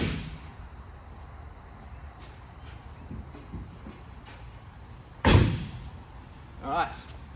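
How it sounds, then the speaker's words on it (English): The cab doors of an excavator are shut, one loud solid slam standing out from a low rumbling background, followed a moment later by a softer thud. "First of all, I need to close all the doors."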